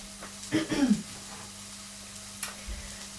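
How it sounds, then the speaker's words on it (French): Vegetables for a curry cook in a frying pan, with a short burst of scraping stirring followed by a faint background sizzle and one more brief clink. "Pensez à mélanger quand vous voyez que ça commence à bien cuire là dans la poêle."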